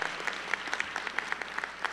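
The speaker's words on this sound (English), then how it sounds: "Give yourselves another round of applause." Steady applause from a university fall convocation audience, many hands clapping in a brief, continuous burst without talk.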